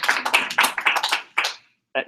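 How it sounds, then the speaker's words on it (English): Audience clapping after a talk at a law school Federalist Society chapter event, a short burst of brisk, uneven claps that stops abruptly, followed by a brief voice. "Yes, please clap, right?"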